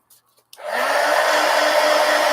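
A hair dryer switches on after a few faint clicks and blows steadily and loudly to dry a coloring page, a constant close whoosh with no voices.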